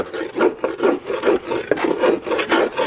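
Caked debris scraped off the cutting deck of a Cub Cadet XT1 lawnmower, close, loud rasping strokes repeating in a quick steady back-and-forth rhythm with no talk.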